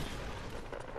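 Dense burst of gunfire from the video game Fortnite, a continuous, loud crackle of shots with no clear gaps between them, heard alone.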